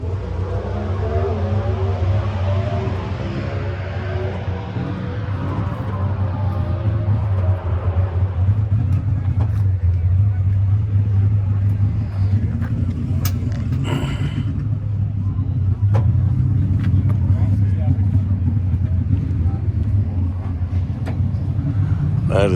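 A Ford Bel Air custom nostalgia drag car at the NHRA U.S. Nationals gives a deep, loud engine rumble that revs early and then settles into a steady idle, with voices in the background.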